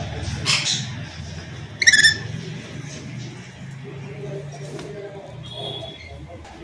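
Exotic pet birds at a bird farm, including conures, cockatiels, lovebirds and red rosellas, give short squawks and chirps, with one loud burst of calls standing out over steady background talk.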